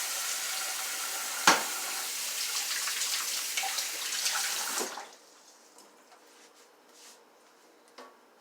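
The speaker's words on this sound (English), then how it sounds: "I'm going to wash my hands." Hands are washed under a running kitchen tap. A steady, fairly loud rush of water goes on for about five seconds with a clunk partway through, then stops, leaving faint drips and small handling sounds.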